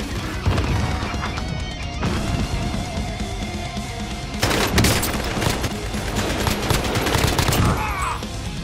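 Heavy sustained gunfire in Call of Duty Warzone, rapid automatic bursts layered with cracks and impacts, loud and continuous with a sharper, denser burst midway through.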